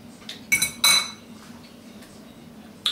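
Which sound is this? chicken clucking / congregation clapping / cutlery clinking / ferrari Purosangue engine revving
cutlery clinking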